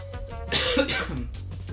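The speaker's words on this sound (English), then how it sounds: "Heartburn coughs." A person coughs a few times in quick succession, close and fairly loud, with a bit of throat clearing.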